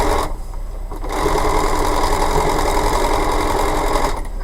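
A sewing machine stitches fabric pieces together for a bumble bee quilt block, its motor whirring in a steady, close run that starts briefly, pauses, then runs continuously to the end.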